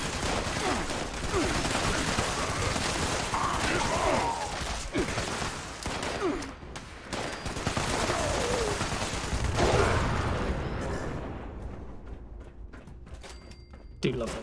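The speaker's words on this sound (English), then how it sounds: "Do love those grenades." Grenade explosions and heavy gunfire from combat in Fallout 76, loud dense bursts one after another, fading out near the end.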